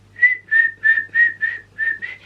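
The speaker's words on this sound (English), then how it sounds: "I can whistle." A person whistles a short run of seven clear, evenly spaced notes, each a bright sustained tone with brief gaps between, close and fairly loud with no talking.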